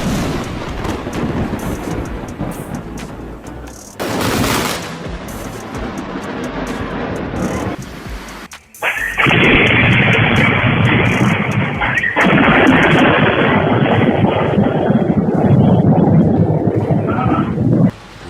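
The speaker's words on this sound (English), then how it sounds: "Lightning struck just yards from the boat." Lightning strikes a few yards from a boat on a lake, followed by a sharp crack and a long, loud rolling rumble of thunder that roars on for several seconds, close and overpowering.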